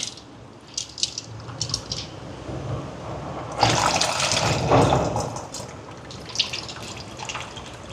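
Soaked tamarind water is poured into a cooking pot for sambar. A splashing, gushing pour lasts about a second and a half, framed by faint drips and small kitchen clinks.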